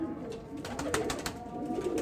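A white high flyer pigeon coos softly nearby in a few short, low, throaty bursts, heard alone without talk.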